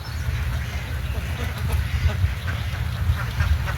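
A large flock of ducks on a duck farm of about 18,000 birds, a continuous dense quacking and honking chorus that stays steady and fairly loud throughout.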